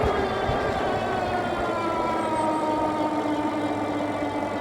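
A Rattan Pinus dual-battery long-range electric bike motor climbs a hill on throttle alone, a steady whining drone with rising tonal pitch over rolling tire and wind rumble, continuous and close.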